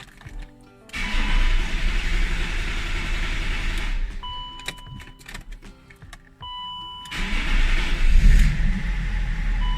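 A BMW E39 with an M57 diesel engine that starts hard and lacks power cranks at length before catching and running, with bursts of starter churn broken by brief pauses, heard close up.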